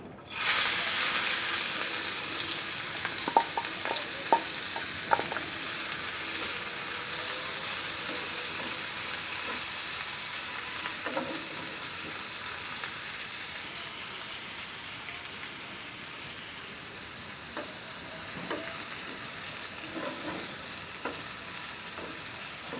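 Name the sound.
chopped onion frying in oil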